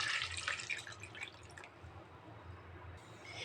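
Water is poured into a pan of taro for mashed taro, a splashing gush that fades into a low trickle and drips; faint and close, with no talking.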